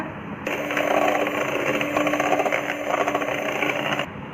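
A handheld electric beater whirs steadily through chocolate cake batter with oil and vanilla essence, a continuous motorized buzz starting abruptly and stopping cleanly after about three and a half seconds.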